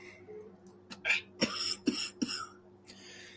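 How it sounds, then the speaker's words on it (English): A man coughs in the background in a series of harsh, throaty bursts, three sharp hacks close together with rougher throat-clearing around them, moderately near and loud. "Jay's coughing up the lung in the back."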